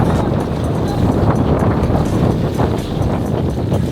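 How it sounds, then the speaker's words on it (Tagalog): Strong wind buffets the microphone in a constant rough rumble, gusting unevenly throughout with no clear voices. "Lakas ang hangin."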